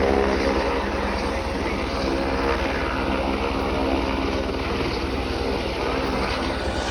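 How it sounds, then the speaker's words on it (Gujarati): A helicopter near Kedarnath in the snowy Himalayan mountains keeps up a loud, continuous rotor and engine roar that holds steady throughout. "Helicopter heading."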